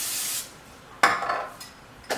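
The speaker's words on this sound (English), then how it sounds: "So I'm just going to take my olive oil spray and just kind of give the veggies a good spray." Olive oil spray is misted over vegetables in a kitchen, with a hissing spray burst at the start followed by a few light clinks and rustles of a pan or dish.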